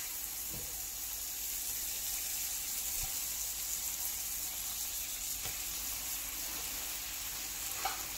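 Buttered pav bread rolls toasting on a hot pan, a soft, even sizzle holding steady throughout with a few faint clicks, no talk.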